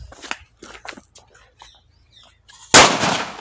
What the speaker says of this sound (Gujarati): આ ભાઈબંધ ટેટા ફોડેલો છે